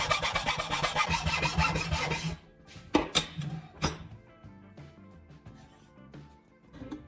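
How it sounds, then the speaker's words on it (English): A handsaw rasps through an upright wooden board as it cuts a straight channel. Dense, rapid strokes run at first, then the sawing stops. A few sharp knocks and scrapes of wood follow at moderate volume. "you use a handsaw to cut 2 straight channels into the upright boards"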